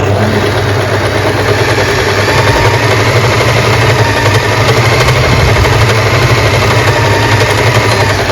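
An Usha Wonder Stitch Plus electric sewing machine runs steadily while darning with a zig-zag stitch, giving a continuous, fairly loud motor hum with no pauses and no talking.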